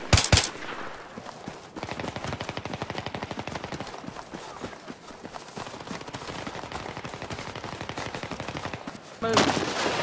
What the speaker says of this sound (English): Covering fire. I pressed, put down my bipod.